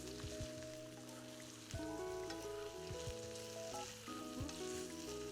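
Flank steak fries loudly in a pan while melted butter is spooned over it, giving a steady close sizzle with occasional sharper spatters and clinks of the spoon, and no voices.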